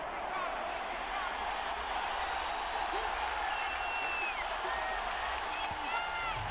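Stadium crowd at an NFL game between the Eagles and Falcons roars as a steady wash of noise beneath a broadcast commentator's voice, with whistles cutting through.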